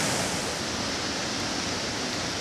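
Heavy rainwater pours steadily down the hole at Yordas Gill cave after abnormal downpours, a dense roaring rush of falling water, loud and unbroken throughout.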